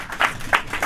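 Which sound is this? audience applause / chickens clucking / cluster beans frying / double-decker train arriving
audience applause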